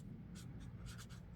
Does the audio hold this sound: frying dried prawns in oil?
no